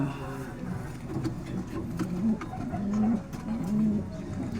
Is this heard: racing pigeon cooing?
yes